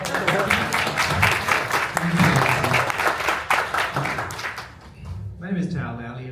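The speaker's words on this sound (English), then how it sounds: "That's your cue to clap." Audience applause at a startup pitch night in Vegas, a dense burst of clapping lasting several seconds that fades out, followed by a speaker talking.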